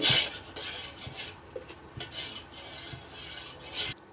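A spoon stirs coffee mixed with milk in a cup, giving a series of light, irregular metallic clinks and scrapes against the cup, close and fairly quiet with no talking.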